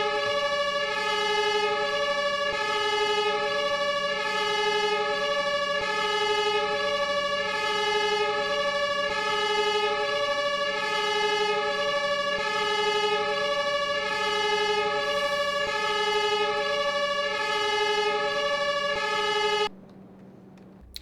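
A siren wails steadily in the Farming Simulator 25 video game, a loud pulsing tone repeating about every second for twenty seconds before cutting off abruptly.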